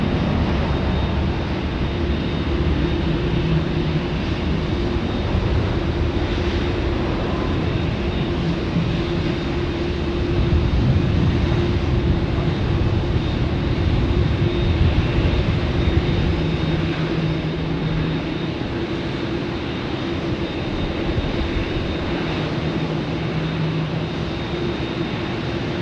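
Airliner landing on runway 16 right at Sydney Airport, a continuous distant engine roar and rumble that swells slightly midway and persists, heard from afar at a live plane-spotting location without speech.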